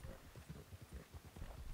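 Horse hooves clip-clop in Red Dead Redemption 2 Online, a steady fast rhythm of muffled low thuds under a constant wash of game ambience.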